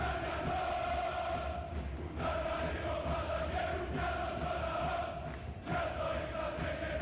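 A European sports crowd roars and chants in a large venue, a steady wash of many voices that stays fairly even, distant and moderately loud, with no single voice standing out.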